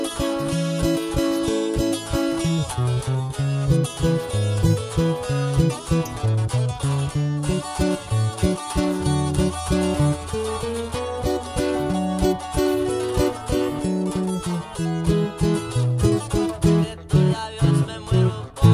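Guitar strumming the chord progression of a song, a steady rhythmic pattern of bright plucked chords with a bass line underneath, played alone without voices for nearly twenty seconds.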